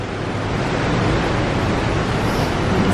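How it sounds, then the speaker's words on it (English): Ocean waves rush past a cruise ship sailing in Alaska, heard from Deck 3 as a loud, continuous broadband roar mixed with wind buffeting, with no voices. "Look at those waves. I can't get over those waves."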